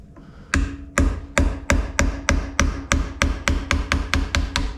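Chunks being chipped off a wooden self bow, a regular series of about a dozen sharp woody knocks roughly every third of a second, close and distinct with short decays and no talking.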